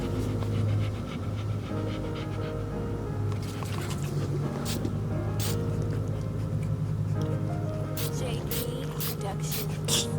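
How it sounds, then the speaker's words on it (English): A dog pants rapidly and rhythmically close by, steady breathing alongside a running engine hum, with some talk in the background. "Crazy dog."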